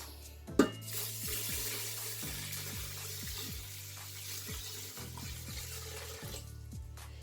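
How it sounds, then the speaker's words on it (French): Water poured steadily into a rice cooker bowl holding raw rice, a continuous splashing trickle close by with a sharp knock near the start and faint rhythmic clicks underneath. "Je rajoute de l'eau."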